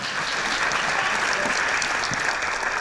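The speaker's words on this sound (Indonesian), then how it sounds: "kita berikan aplaus untuk Erika." A studio audience on the Indonesian talk show Kick Andy gives Erika dense, steady applause that stays loud and even for a few seconds.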